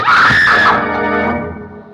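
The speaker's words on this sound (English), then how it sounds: "Oh, yes, she screamed." A woman gives a loud, sustained scream in a radio drama, sharp and piercing at first and then trailing off as it fades over about two seconds.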